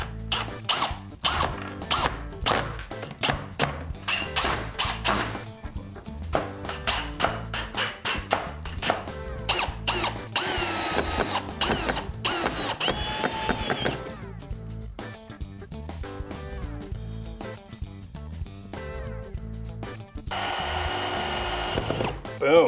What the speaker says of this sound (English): we're going to use some 3-inch long screws through the ends right where we pre-drilled